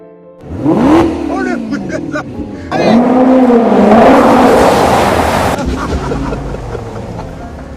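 A car engine revs hard, its pitch swooping up and down in loud surges before settling into a steadier roar.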